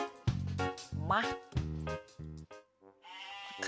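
Sheep in the video game Mini World: Block Art bleat several times in quick succession, loud and close, with short gaps between the wavering calls.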